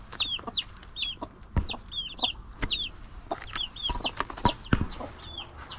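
Several chickens, including young orange chicks, cluck and chirp in quick, repeated high-pitched calls, close and fairly loud, with no talking.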